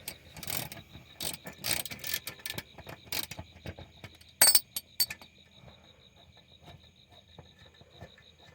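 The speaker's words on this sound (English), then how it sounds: "We will use a ratchet." Hand ratchet turning bolts under a 2006 Chevrolet Trailblazer during a transmission service on ramps, quick bursts of clicking ratchet strokes, close and fairly quiet, separated by pauses.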